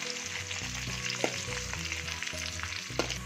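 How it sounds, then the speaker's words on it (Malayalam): Shallots and curry leaves fry in hot oil for a Kerala chembin thalu thoran (taro stem stir-fry), giving a steady close sizzle with periodic sharp spatter pops and a few stirring scrapes, with no talk. "ഉള്ളി ഇതിലേക്ക് നമുക്ക് രണ്ട് കരിയാപ്പില ഇടാം."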